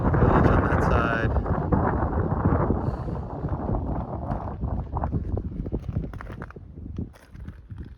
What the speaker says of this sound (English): All right, it's windy, just outside Big Bend National Park.